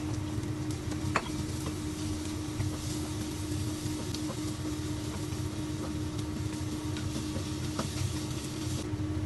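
Sliced ginger and garlic frying for chicken curry, giving a steady, even sizzle that holds at one level throughout, with a low hum beneath and one faint tick.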